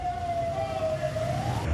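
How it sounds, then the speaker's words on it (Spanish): A police car siren wails steadily on a street in Guayaquil while escorting a convoy, one sustained tone that rises slightly at the end, heard at moderate distance over low traffic rumble. "la policía, con las sirenas encendidas"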